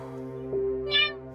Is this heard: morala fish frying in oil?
no